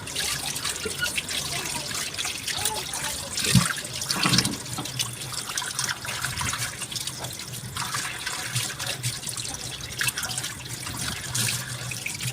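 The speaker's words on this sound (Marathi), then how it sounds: "खलबत्त्याला व्यवस्थित चोळून घ्यायचे आणि धुवून काढायचे" A new stone mortar and pestle is rinsed and scrubbed under running tap water, a continuous close splash and trickle with a few knocks of stone against the sink.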